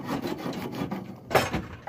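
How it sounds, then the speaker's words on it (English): Sandpaper cloth is rubbed back and forth against a water heater's water supply pipe, a close, steady rasping scrub with a brief louder stroke near the end. "what you're going to do is you're going to just take your sandpaper cloth"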